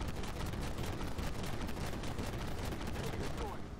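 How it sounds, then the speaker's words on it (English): A Bradley's autocannon firing in the tank game Armored Warfare: a rapid, steady stream of sharp shots in an even rhythm, fairly quiet and continuous for the whole stretch, over low rumbling battle noise. "There's something shooting at me from over here. As you can see, it's bouncing because it's autocannon rounds."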